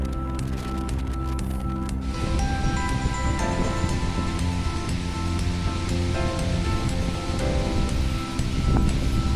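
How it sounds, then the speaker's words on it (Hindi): Heavy, continuous rain pours down in Mecca during a storm, a loud, dense, unbroken wash of hiss with faint hum and distant background tones under it. "कितनी तेज़ बारिश हो रही है"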